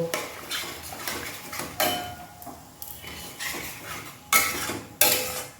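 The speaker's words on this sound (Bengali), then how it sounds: "সামান্য একটু জল দিয়ে দেব দিয়ে আরও কিছুক্ষণ কষাতে থাকবো" Mocha chingri masala sautéed in a pan is stirred with a spatula that scrapes and knocks against the metal in irregular strokes, with a light sizzle underneath, close by and without voices.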